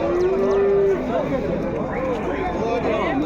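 An HF, Jersey or Holstein calf lows once in a long drawn-out moo, followed by shorter bleats and moos amid busy crowd chatter at a cattle market.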